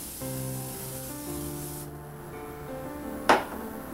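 Liquid sprayed onto facial skin before ultrasonic scrubbing, heard as a single short, close spray burst near the end, over a steady background tone.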